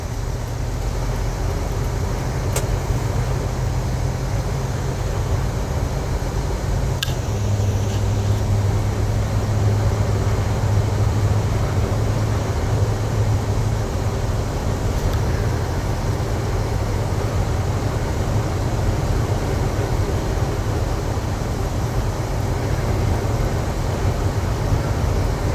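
A 2018 Chevy 4500 LCF gas stake body flatbed truck on the road, heard from inside the cab as a steady low engine drone and road rumble, with a couple of faint clicks and a brief pitch change partway through.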